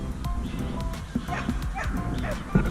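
A dog barks in a park with a few short yips and barks scattered over a steady background of outdoor noise, while someone talks nearby.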